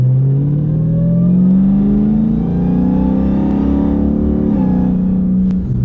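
A modded Dodge Hellcat accelerates hard near a gas station, its loud, deep engine note rising steadily through a gear change with a brief dip, then pulling again, close and without speech.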